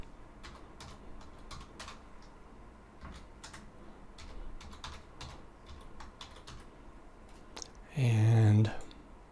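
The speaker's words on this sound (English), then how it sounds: "So now we can type in our key terms again." Quiet, steady clicking of search terms being typed on a computer keyboard runs throughout, ending in a brief louder burst near the end.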